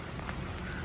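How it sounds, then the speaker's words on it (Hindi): Steady rain falling in Varkala, Kerala, a dense close hiss of drops on surfaces with no voices, lasting under a second. "ऑलरेडी बारिश हो रही है"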